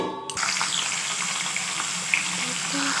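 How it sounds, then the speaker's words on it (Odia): Cooked rice drained of its water while a fried fish head cooks nearby for a pakhala meal: a steady, close wash of running and trickling water with sizzling undertones, beginning after a short clatter. "ଭାତ ଗାଳିବି।"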